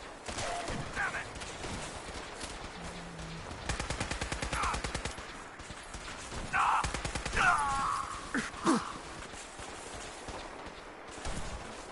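Rapid gunfire in the Fallout 4 video game, with several bursts of automatic fire at moderate loudness among groans and other game sounds.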